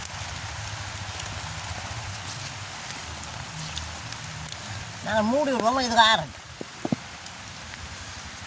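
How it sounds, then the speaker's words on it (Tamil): Rain falls outdoors in a village in a steady, soft patter that runs through the whole stretch, with a person talking briefly over it near the end. "அதை விட மழையும் வந்துட்டுது. மழையும் வந்துடுது."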